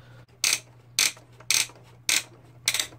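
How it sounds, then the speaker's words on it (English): Plastic crane on a 1984 Playmobil 3050 pirate ship toy ratchets in five short, loud clicking bursts spaced evenly about half a second apart, alone over a faint steady hum. "you park your ship into the port and you lower this crane all the way"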